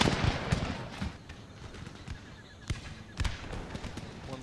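Cannon fire in an Empire Total War battle, heard as several deep, booming blasts spaced irregularly across the clip over a continuous rumbling battlefield background, with no talking.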